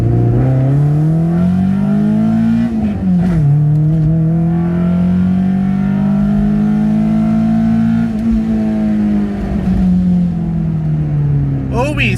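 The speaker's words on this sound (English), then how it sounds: "We'll do one more little first gear pull" A Honda CRX track car, burning a little oil, pulls hard in first gear. The engine revs climb and waver in a loud, continuous mid-pitched drone, with a brief dip partway through before it rises again.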